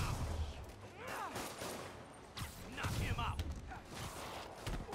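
Gunfire from enemies in Marvel's Spider-Man on PS4, scattered shots mixed with game action and effects, fairly quiet under a player talking excitedly.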